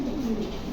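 A pigeon from a fancy breed with feathered feet coos in a low, steady, throaty hum, close and moderately loud, with no talking over it.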